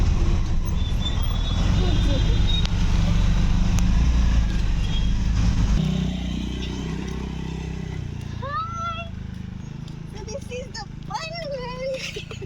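A four-seater auto rickshaw rumbles along a road with a loud, steady engine drone that eases to a quieter hum midway, with faint voices and small chirping sounds over the traffic.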